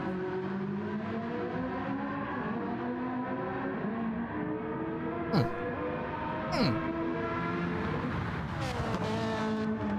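Race cars from Gran Turismo 7 on the Daytona Road course roar together in a steady, dense engine drone, with rising and falling pitch sweeps and two quick whooshing passes as cars go by.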